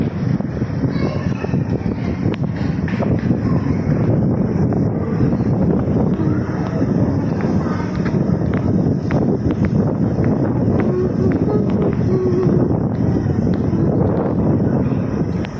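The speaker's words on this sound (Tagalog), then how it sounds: "Mahangin sa labas." Strong outdoor wind buffeting the microphone, a constant loud rumbling roar with gusty crackles lasting throughout, with no clear speech on top.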